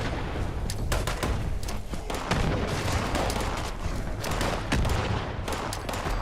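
Grenade explosions go off in a StarCraft II battle, a dense, loud barrage of sharp bangs and booms overlapping with rapid gunfire, continuing without pause throughout.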